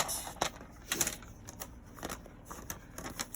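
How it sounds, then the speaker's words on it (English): Paper for a Christmas gift tag is cut into strips, giving faint, crisp clicks and scrapes at an uneven rhythm in a quiet room. "So let's go ahead and cut it."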